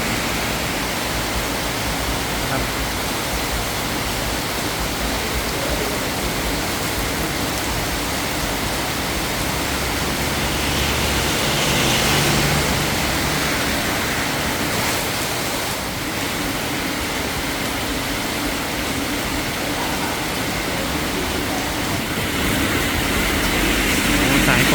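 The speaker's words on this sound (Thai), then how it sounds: "ฝนตก" Heavy rain falls in Kanchanaburi, Thailand, as a dense, steady hiss that stays loud and even for the whole stretch.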